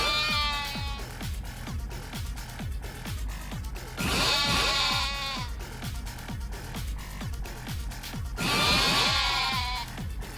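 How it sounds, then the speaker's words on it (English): Sheep in the video game Yakuza: Like A Dragon bleat in three loud, wavering cries, at the start, around four seconds and near nine seconds, over a steady background of game sound. "Come on, bring me more sheep."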